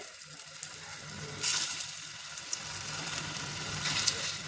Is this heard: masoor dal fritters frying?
yes